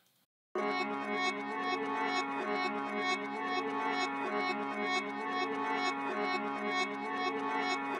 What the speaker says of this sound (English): So with the reverb, you can just hear the space that it adds and just makes the guitar sound that much bigger.